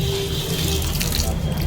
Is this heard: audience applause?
no